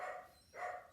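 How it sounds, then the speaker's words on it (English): A working-line German Shepherd barks twice, faint and somewhat distant, with the two barks spaced about half a second apart. "my dog's going crazy again"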